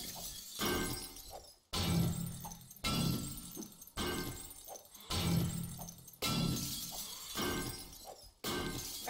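Glass shatters in the video game 7 Days to Die, in a run of six or seven loud, sharp crashes, each one cut off abruptly and then followed by a gritty, fading tail.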